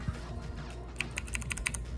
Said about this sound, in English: I had to figure out what mechanical keyboard switches did for the first time ever